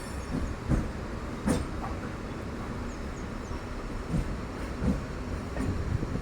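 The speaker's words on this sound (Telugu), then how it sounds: "మన ట్రైన్ వచ్చేసి నిడదవోలు నుండి అయితే డిపార్ట్ అయిపోతుందండి" The Simhadri Express pulls out of Nidadavolu station, a steady rumble of moving railcars with faint wheel clicks and occasional thumps, heard from on board with no talk.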